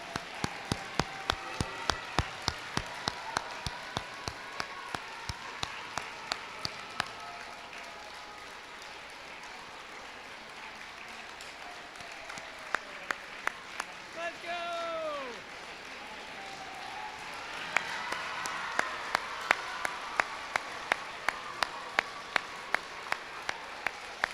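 Sharp, evenly spaced claps ring out in a school auditorium during a junior high honors assembly, loud and rhythmic at first, thinning into a soft bed of crowd noise with a voice talking over it, then returning as steady claps.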